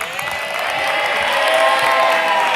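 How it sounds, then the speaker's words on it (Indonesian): A crowd applauds dancers from Safa Dance Art Sukabumi at a televised competition, a sustained wash of clapping that swells slightly as it continues. "Coba tepuk tangan untuk Sukabumi."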